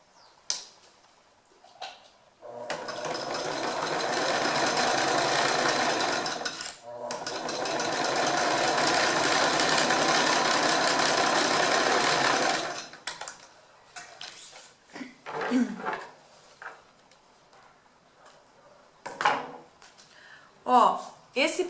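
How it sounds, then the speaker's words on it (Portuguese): A home sewing machine runs a steady, buzzing stitch through 30-gauge plastic for an organizer bag in two long runs with a short pause between, then soft handling noises follow and someone talks quietly. "nós vamos passar uma costura de pé de máquina aqui"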